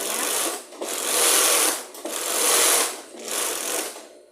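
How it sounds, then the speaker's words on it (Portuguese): Sewing machine stitching along the edge of a women's denim jacket, running close in three rapid whirring bursts separated by brief pauses. "Passando a costurinha na beirinha."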